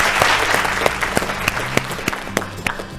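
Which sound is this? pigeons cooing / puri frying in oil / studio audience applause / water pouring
studio audience applause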